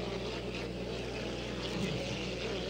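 Hydroplane race boat engine in a 1.5 litre heat at North Tonawanda, refired after stalling, droning steadily at a distance under broad open-air noise.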